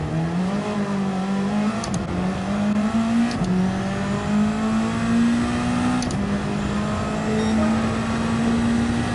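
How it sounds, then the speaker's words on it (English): A 4-rotor Mazda FD race car engine in Gran Turismo 7 wails at a high steady pitch that climbs gradually through each gear, with brief dips at shifts, loud and close throughout with no talking. "Gotta hear that 4-rotor though, it sounds mean."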